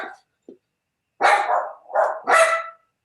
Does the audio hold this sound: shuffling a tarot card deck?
no